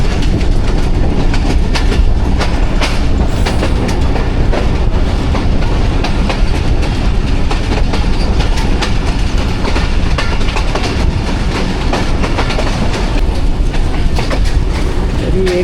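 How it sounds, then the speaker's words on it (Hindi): The 18 Down Millat Express passenger train runs along a single line in Pakistan, a loud continuous rumble with rhythmic clickety-clack of wheels over rail joints, heard close from inside or beside the carriages without talk. "एक ही ट्रेन है अप डाउन की इस ट्रैक पर सफ़र करती है"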